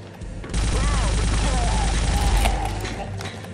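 Gunfire strikes the player in the PC shooter SiN, a dense sustained burst of impacts and crackling shots that stays loud for about three seconds after a sudden onset, then tails off, with no talking.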